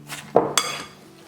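A utensil stirs apple pieces into sticky fritter dough in a bowl, giving two quick knocks and clinks against the bowl with a brief soft scrape between them.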